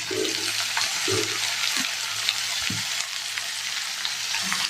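Onion, tomato and green chilli fry in hot oil with ginger, garlic, pumpkin peel and potato peel for a prawn curry. The sizzle is steady and loud, broken by occasional low knocks of stirring.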